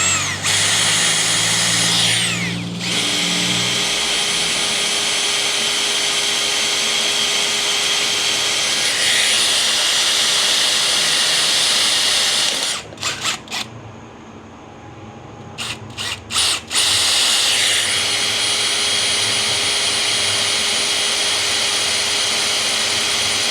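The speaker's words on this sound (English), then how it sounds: "So now that we have our holes marked, we're gonna go ahead and drill those out." Power drill boring marked holes for a modern cable rail installation, a loud sustained high whine that runs steadily, cuts out briefly for a few seconds of spluttering pauses midway, then resumes at full speed.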